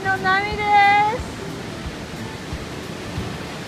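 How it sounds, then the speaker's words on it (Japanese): Sea of Japan waves washing ashore near Kanazawa, a steady broadband rush of surf that continues after a brief voice speaks at the start. "日本海の波です。"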